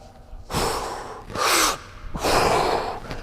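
Heavy breathing during explosive dumbbell jump exercises, with three loud, close breaths in an even rhythm: sharp gasping intakes followed by forceful blowing exhales, and no talking.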